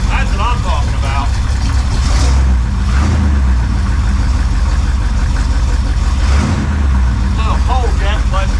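A freshly rebuilt car engine running cold gives a loud, steady, close rumble with slight rises in revs, and brief voices can be heard over it.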